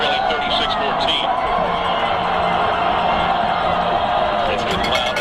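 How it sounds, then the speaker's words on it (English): High school football stadium crowd on its feet cheering for the Dragons, a dense continuous roar of voices and whoops, loud and steady throughout. "Much of the Dragon faithful in the stands on their feet, cheering on the Dragons"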